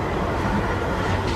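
Inside a London Underground Central Line train heading to Liverpool Street, a loud, continuous low rumble and rattle of the carriage in motion fills the short stretch.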